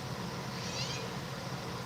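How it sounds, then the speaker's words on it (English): A cat meows close by, a drawn-out call in the middle of the clip over steady low background noise. "Or are you just meowing so you can hear yourself?"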